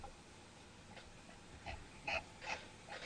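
A dog breathing and whimpering over a live-stream call: a few soft, short nasal whines and huffs spaced under a second apart, faint against low background noise.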